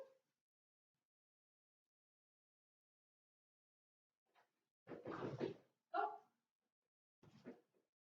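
A few short dog barks in quick succession after several seconds of near silence, followed by fainter yips.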